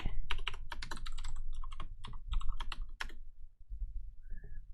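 Someone types a password on a computer keyboard at a login screen, producing a quick, uneven burst of close, crisp key clicks that stops after about three seconds, leaving near silence with a faint tone at the end.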